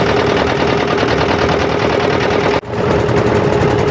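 A boat engine drives a boat across the Buriganga river, a loud, steady rapid chugging with a brief dip near the end, no voices.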